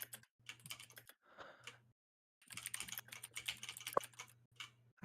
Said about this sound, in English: I hear so much typing.